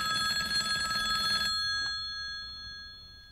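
A telephone bell rings in a quick trilling burst, then stops and leaves a faint ringing decay in a quiet room.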